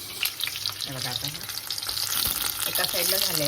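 Stuffed green chillies fry in a pan after a splash of water, giving a loud, continuous sizzle with crackling bursts, and no one speaks.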